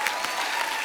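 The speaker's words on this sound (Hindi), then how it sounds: "जोरदार तालियां" A studio audience on a TV comedy show bursts into steady, dense applause, loud and close throughout the brief moment.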